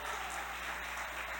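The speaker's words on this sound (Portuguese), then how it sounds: "E aplauda ao Senhor." Applause from a church congregation during a worship service, a brief, fairly faint wash of many hands clapping over a low steady hum, with no voices.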